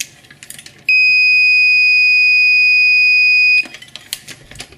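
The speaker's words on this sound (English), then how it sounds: "The plunger will be lifted up and the alarm should sound." A Double Alpha magnetic powder checker alarm emits one loud, steady high-pitched electronic tone for nearly three seconds, then stops abruptly; light clicks and handling noises come before and after.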